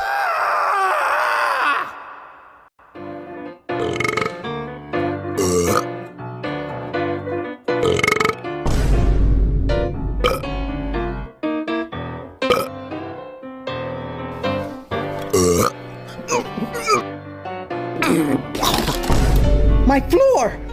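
Burps are used as music: loud, stretched belches rise and fall in pitch over about twenty seconds, run together in melodic phrases broken by short pauses, with vocal groans mixed in.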